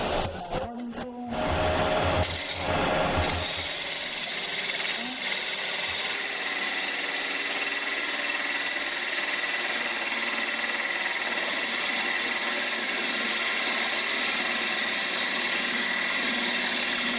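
Power cutting tool carving a wooden bowl: after a few short starts and clunks, a loud, continuous high-pitched whir with scraping grinds on steadily for the rest of the clip, with no talk.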